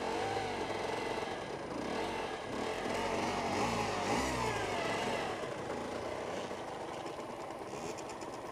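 An Aprilia RS125 two-stroke motorcycle that has just broken down keeps running with a rough, fluctuating engine drone close by, heard on its own without talk.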